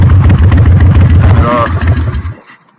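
A motorcycle that sat unused for three to four years runs with a close, loud, lumpy rhythmic idle that cuts out abruptly near the end.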